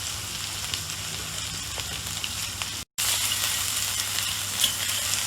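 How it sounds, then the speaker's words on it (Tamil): Crushed ginger and garlic frying in hot oil for a clam thoran, giving a steady, loud, close sizzle throughout that is broken by one brief cut of silence. "பச்சை ஸ்மெல் போகிற வரைக்கும் நம்ம ஃப்ரை பண்ணுவோம்."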